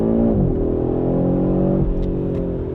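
A 2025 Audi RS 3's 2.5-litre, 400 hp five-cylinder engine revs loudly and steadily close by, its exhaust note dipping in pitch as it shifts, with no talk over it.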